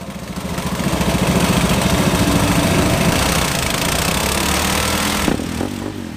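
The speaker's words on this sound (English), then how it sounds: "Listen to that mono rumble." A single-cylinder Supermono racing motorcycle engine, started on a roller starter in a race paddock, runs with a loud, steady thumping rumble that holds for several seconds before a slight change near the end.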